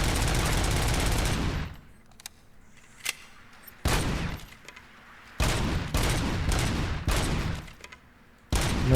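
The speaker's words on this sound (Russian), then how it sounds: "оружие теперь так стреляет" Bursts of upgraded weapon fire in Robocop: Rogue City, loud rapid volleys in several separate strings with short quiet gaps between, no talking over them.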